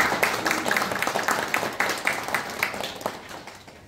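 An audience at a county head's visit to a town meeting in Cheongpyeong, Gapyeong, claps in welcome, a brief burst of scattered, moderately loud hand claps that thins out toward the end.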